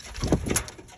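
Blue checker pigeons coo in a loft, a soft, low burbling call that swells and fades across one second, close by, with no voices.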